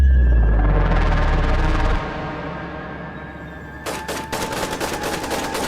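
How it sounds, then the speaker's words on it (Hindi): Army gunfire at zombies in an animated cartoon: a deep rumbling swell fades, then rapid bursts of shots crackle in quick succession, loud and close, with no voices. "आर्मी तो ज़ॉम्बीज़ पर फायरिंग करके उन्हें मार रही थी"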